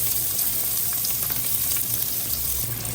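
Steady, crackling sizzle of onions frying in hot oil, continuous and close, with no voices.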